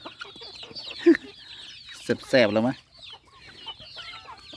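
Chickens being fed cluck close by in short bursts, with one louder, drawn-out call near the middle, while a person talks intermittently over them.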